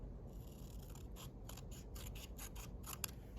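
Scissors cutting through two sheets of paper held together, a quick series of about a dozen crisp snips in irregular rhythm, close and fairly quiet, no talking.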